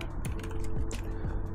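Keys tap on a computer keyboard at a home desk setup used for Counter-Strike gaming, a few quiet, evenly spaced keystrokes over steady room hiss with no voices.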